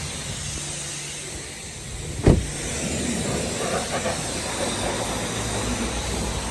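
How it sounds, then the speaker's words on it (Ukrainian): The electric seat motor in a European-version 2008 Honda Pilot whirs faintly inside the cabin, with a sharp click partway through and a low hum continuing afterward. "Це сидіння також електричне."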